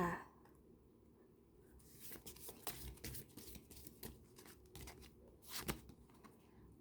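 Tarot cards shuffled by hand: quiet, rapid riffling and flicking bursts that swell and fade in an irregular rhythm, close by, with no talk.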